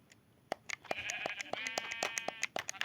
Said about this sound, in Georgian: აქ მართლა ცხვარი ყავთ, მაინც